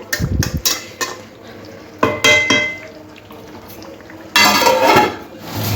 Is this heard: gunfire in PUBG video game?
no